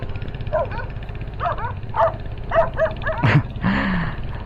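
A dog barks repeatedly at Bale-Balayan Resort and Villas in Bamban, Tarlac, with a series of short yips and barks followed by a louder bark and a whine, fairly close.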